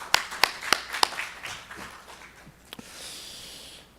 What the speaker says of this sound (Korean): 다시 한번 격려의 박수 같이 드립시다.